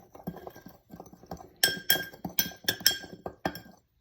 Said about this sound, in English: I'm going to give this a quick little stir. Just get all of those spices kind of mixed together.